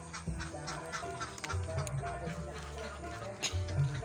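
Ducks quacking and honking in a small group, close and intermittent, mixed with a person talking and some handling clatter.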